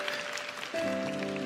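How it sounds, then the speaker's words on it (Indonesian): A brief patter of audience clapping during a church sermon, moderately quiet, with a sustained tone entering partway through. "Loh kok tepuk tangan?"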